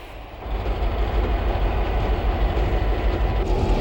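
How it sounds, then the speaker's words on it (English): Washington Metro trains rush past a rail terminal area on their own tracks, a loud, steady rumble with rolling wheel noise that builds within the first half second and holds strong throughout. "Washington Metro trains race by the terminal area on their own tracks, adding to the train activity through this area."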